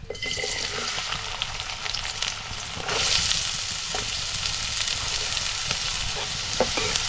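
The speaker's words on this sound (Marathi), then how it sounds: "तेल तापलंय. आता आपल्याला ह्याच्यात हा कांदा टाकायचा आहे." Chopped onion hitting hot oil in a home kitchen pan, setting off a loud, continuous sizzle with crackling spits and occasional stirring clatter, no voices.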